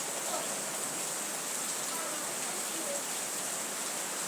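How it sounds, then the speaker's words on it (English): Rain falls on an evening walk among trees, a soft, even hiss with no clear speech. "there comes the rain."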